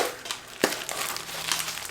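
Tissue paper crinkles inside a Saint Laurent bag during an unboxing, a close, soft rustle with one sharper crunch partway through, no voices.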